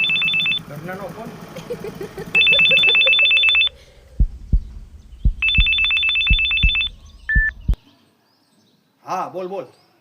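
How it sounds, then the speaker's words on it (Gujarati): A phone rings with a looping electronic ringtone in repeated bursts, loud and close, broken by short pauses, with thumping beats between the rings and a brief chirp near the end; no one talks over it. "ઘરનાનો ફોન."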